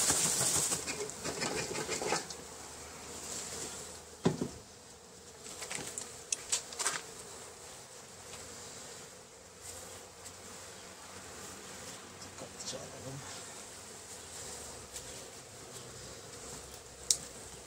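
Honeybees buzz in a constant drone around a hive being renewed after moisture mould, broken by occasional sharp knocks and brief flutters, with no talking.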